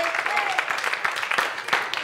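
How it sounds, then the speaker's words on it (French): A class applauding together at the end of a lesson, a brief burst of dense, even clapping heard up close, with voices mixed in. "OK, tout le monde, on s'applaudit."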